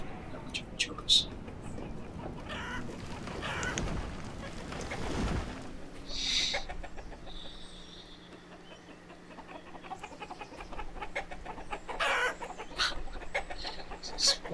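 Chickens cluck in the village-building game Banished, short bird calls scattered over a steady ambient game soundtrack with a brief low rumble midway.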